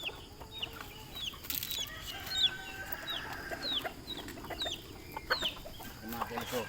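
Kelso bloodline gamefowl roosters clucking and calling in short bursts, moderately distant over a faint background hum, with some soft other bird calls.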